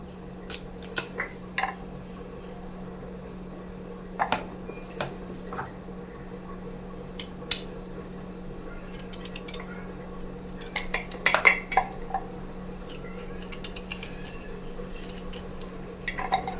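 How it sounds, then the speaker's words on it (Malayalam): Jackfruit seeds being sliced into thin lengthwise strips with a knife give faint, scattered taps and clicks on a quiet kitchen background, with no talking. "ചക്കക്കുരു നമുക്ക് നീളത്തിൽ കനം കുറഞ്ഞ് അരിഞ്ഞെടുക്കണം."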